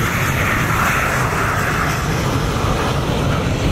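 A MiG-29A fighter jet performing an air show display at Radom-Sadków produces a loud, steady engine roar that fills the whole stretch without a break.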